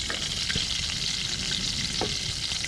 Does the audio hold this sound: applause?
no